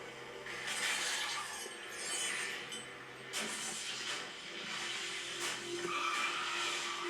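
Crash of a log truck in a horror scene from the film Final Destination 2: tires skid and squeal, with bursts of shattering glass and metal impacts, loud and continuous over several seconds, no speech.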